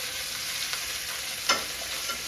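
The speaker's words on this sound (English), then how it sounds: "I think chicken is getting kind of fried a little bit." Chicken fries in a pan with a soft, steady sizzle, punctuated by a few faint clicks and one sharper pop or stir, with no talking.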